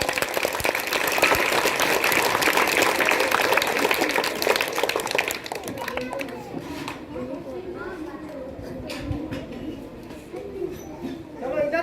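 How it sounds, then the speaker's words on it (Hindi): Applause for a student named Swati Kumari at a school graduation ceremony in a middle school, a loud steady clapping from a crowd for several seconds that fades into chatter and voices. "चलिए स्वाति कुमारी के लिए जोरदार ताली हो जाए।"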